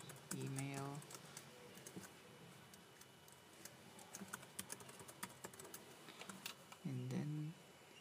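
Quiet clicking of a computer keyboard as a recovery email is typed, irregular soft taps throughout, with brief bursts of a voice at the start and near the end.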